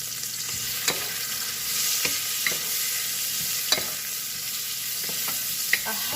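Onions frying in a pot for Swahili pilau, a continuous soft sizzle with occasional stirring clinks and scrapes, close and fairly quiet, no voices.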